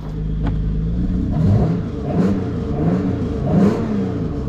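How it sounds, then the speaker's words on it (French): A Peugeot 406 Coupé engine starts and runs, a steady low rumble with a few rising revs, close by and loud, with no talk. "Je vais essayer de vous la démarrer là. Donc ça démarre."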